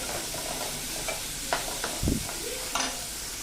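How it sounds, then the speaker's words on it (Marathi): Onions for dal fry sauté in hot oil, giving a steady close sizzle broken by a few scraping stirs and clinks of a spoon against the pan, with no talking. "कांदा छान परतून घ्यायचा."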